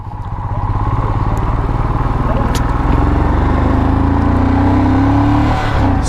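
A Royal Enfield Himalayan motorcycle is ridden on a high mountain route toward Everest base camp; the engine gives a loud, steady, close thrumming drone that rises slightly partway through.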